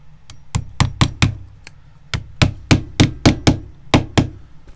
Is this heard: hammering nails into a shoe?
yes